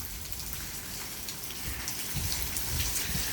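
Rain pours steadily during a storm, heard from under a covered backyard porch as a dense hiss of drops pattering on surfaces, even and close with no voices.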